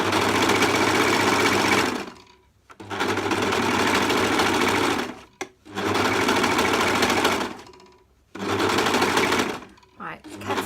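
A sewing machine with a cutting blade stitches fabric for makeup removal pads in four loud buzzing runs, each a couple of seconds long, separated by brief pauses with no talking.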